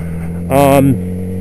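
A Yamaha R6 sport motorcycle engine gives a short rising rev as the rider shifts gears, close and loud over a steady idle drone, with a voice talking around it.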